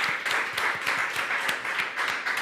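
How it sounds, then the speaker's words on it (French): Applause during a French game stream, with a steady patter of many hands clapping, moderately loud and continuous throughout. "Il y a eu des applaudissements."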